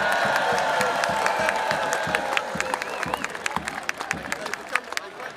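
A large crowd at a Jerusalem Day celebration in London applauding and cheering loudly for rabbis, dense clapping that thins into scattered claps toward the end.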